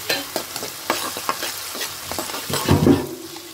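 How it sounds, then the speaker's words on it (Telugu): Garlic, green chilies and onion pieces sizzle in a pan while a spoon stirs them in repeated scraping strokes, growing louder near the end, with no talking. "చక్కగా గోల్డెన్ బ్రౌన్ కలర్ వచ్చేదాకా వేయించుకోవాలి మనం"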